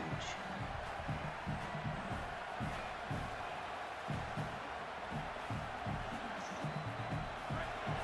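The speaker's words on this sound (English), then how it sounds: "The roar of the crowd trying to fuel this defense to keep them pinned in their own end." A stadium crowd roars continuously in the College Football 27 video game, a broad, distant wash of cheering with faint rhythmic pulsing underneath.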